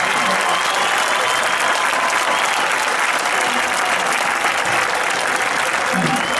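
Sustained, loud applause from a high school graduation audience, a dense steady clapping that fills the whole stretch with a few faint voices mixed in.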